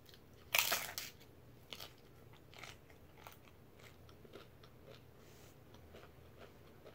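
Crunching and chewing of unsalted fried corn tortilla chips, with one loud sharp bite near the start followed by quieter scattered crunches and chewing close to the mic, no talking.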